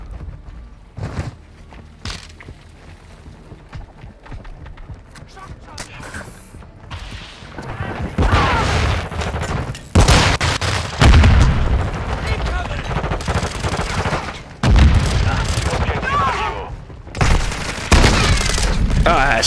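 Shotgun blasts and other gunfire ring out in a Modern Warfare II multiplayer match, loud sharp booms in scattered bursts over game sounds, with a player talking at times.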